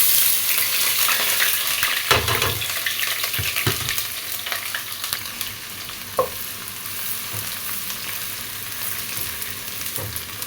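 Onions sizzling and frying in vegetable oil for an African rice stew, with steady close sizzle throughout and several sharp scraping strokes of a utensil stirring the pan.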